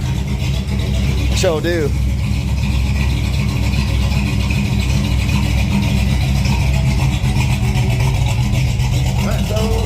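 A Ford F100 truck engine rumbles loudly and steadily through a bed-exit exhaust, a deep continuous drone, with a brief spoken reply near the start.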